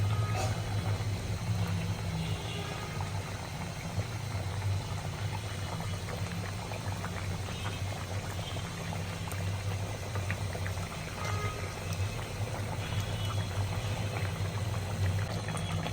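Tilapia fish curry simmering in a covered pot, a steady dense bubbling hiss with a low rumble running unbroken throughout, close and fairly loud with no talk.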